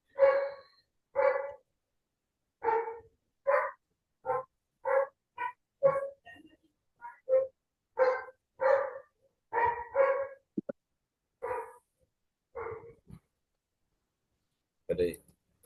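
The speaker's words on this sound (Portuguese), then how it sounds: "É o cachorro do vizinho." A neighbour's dog barks in a steady string of sharp, spaced barks, about a dozen over fifteen seconds, fairly close and clear against a quiet background.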